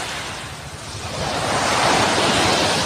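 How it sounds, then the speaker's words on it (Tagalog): Strong sea waves surge and wash onto a beach at evening, a broad rushing roar with wind that swells louder midway and keeps going without any voices. "ang lakas ng tubig. Malakas yung alon."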